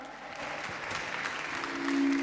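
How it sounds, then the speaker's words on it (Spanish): Audience at a Mangamore 2023 karaoke contest claps in a steady, moderate burst of many hands, with a sustained tone rising underneath near the end. "Venga, un fuerte aplauso."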